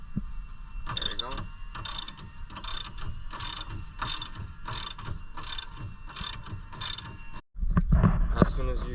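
A 5/16 wrench ratcheting a bolt during a Polaris Ranger lift kit install, with close, loud, regular bursts of clicking in steady rhythm, then a brief pause and some clattering handling.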